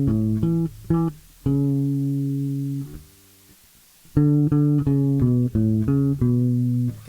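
Bass guitar plays a song's melody an octave higher, starting from an A, with a few short plucks, a held ringing note, a brief pause, then a steady run of clean, close notes.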